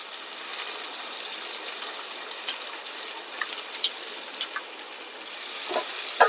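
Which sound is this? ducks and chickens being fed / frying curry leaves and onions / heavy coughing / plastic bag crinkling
frying curry leaves and onions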